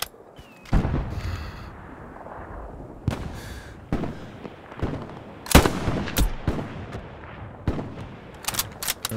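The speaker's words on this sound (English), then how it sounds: "There is a friendly here behind me that's shooting random shots" Gunfire in the World War II shooter Hell Let Loose, scattered sharp gunshots and a few short bursts, some close and loud and others more distant, spaced irregularly across a quiet battlefield background.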